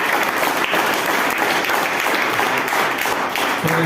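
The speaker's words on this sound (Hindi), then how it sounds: "एक बड़ा ताली बजाए परमेश्वर की महिमा के लिए" A church congregation claps together in sustained, loud, dense applause that fills the room steadily from start to finish, with no voices rising above it.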